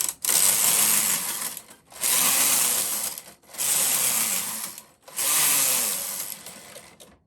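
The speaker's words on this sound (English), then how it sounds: "So always go at a steady pace with the lace carriage." A lace carriage on a Brother KH-950i knitting machine is pushed across the needle bed four times at a steady pace, each pass a loud, close mechanical rasping whir separated by short pauses.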